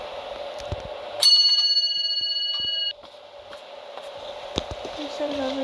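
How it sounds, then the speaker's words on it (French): A small household bell rung to call someone downstairs gives a bright, sustained ring of about two seconds that stops abruptly, framed by quiet indoor room noise and a few knocks. "Il y a une petite sonnette pour qu'elle vienne en bas."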